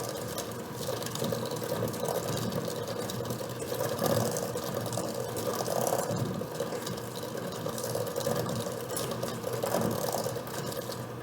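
An electric hand mixer creams chocolate chip cookie dough in a bowl, giving a steady, continuous close-up whir with a slightly rattling, gritty texture that runs unbroken throughout.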